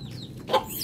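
A chicken with watery, swollen eyes gives a single short cluck, close and clear over light background noise.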